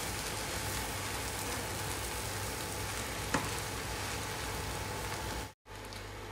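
Vietnamese fried rice hissing and crackling steadily in a pan while being stirred, a continuous close sizzle with one brief knock and a sudden short cut near the end.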